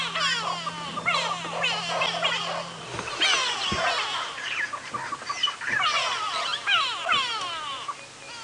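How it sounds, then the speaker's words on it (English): Grey go-away birds mob a pair of owls with loud, harsh alarm calls during a sunrise safari drive in the African bush, a dense overlapping chorus of nasal shrieks repeating in bursts close by. "There's all the grey go-away birds coming to shout at them."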